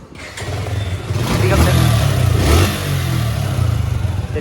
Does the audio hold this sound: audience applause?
no